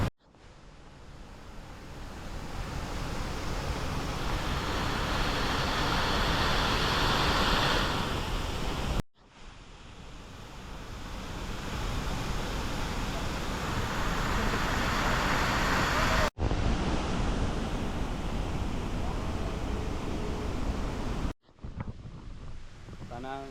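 Talay Falls waterfall in Laguna: a broad, constant roar of rushing water with heavy wind buffeting on the microphone, loud and close, broken by a few abrupt cuts.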